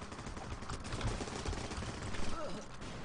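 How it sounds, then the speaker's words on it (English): Rapid machine gun bursts ring out in the video game Running with Rifles, steady rattling fire under an excited voice. "I'm gonna try to put down an MG right now."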